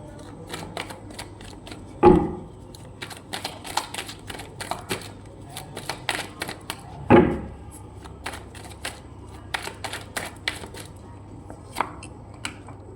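Tarot cards are shuffled in soft repeated riffling bursts, with two louder slaps where several cards drop together, close and quiet with no talking.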